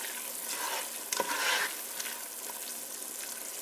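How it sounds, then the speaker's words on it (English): Homemade tomato soup cooking in a pot gives off a steady, quiet bubbling hiss, with a brief louder burst of activity midway and a few faint clinks, no voices. "you can see how it's really boiling"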